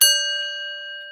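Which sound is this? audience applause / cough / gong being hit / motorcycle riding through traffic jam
gong being hit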